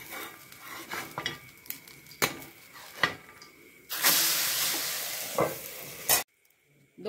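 Mutton curry dosa sizzles in oil on a hot pan, a steady loud hiss broken by scraping spatula clatters as it is flipped, then the sizzle cuts off abruptly.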